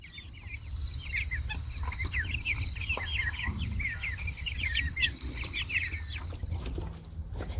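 Chickens out on grass pasture, moved from a brooder to forage, chirping and calling in busy overlapping bursts over a low steady rumble of outdoor background noise.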